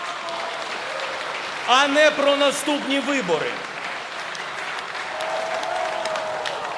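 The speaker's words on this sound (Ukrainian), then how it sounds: "Якісь вибіркові оплески." Audience applause breaks out during a president's speech, a short burst of clapping that swells and fades over a few seconds while his voice keeps speaking over it.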